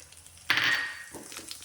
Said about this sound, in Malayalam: പാനിൽ എണ്ണ ഒഴിച്ച് നല്ല ചൂടായിട്ട് അതിലേക്ക് അരിമണി ഇട്ട് കൊടുക്കാം